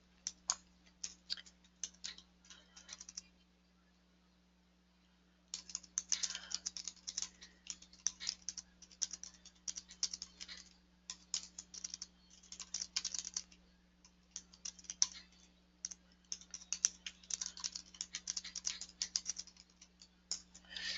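Steady typing on a computer keyboard, close and quiet, with fast clusters of key clicks, a short pause, then longer bursts of tapping over a faint electrical hum.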